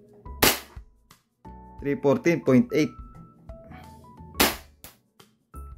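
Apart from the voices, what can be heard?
E&C Glock 34 airsoft pistol shots through a chronograph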